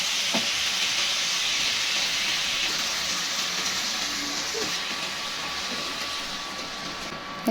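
Curry broth hits a hot pan of cooking chicken with a loud, steady, wide hiss that fills the whole stretch close up, with a couple of faint clinks underneath and no talking.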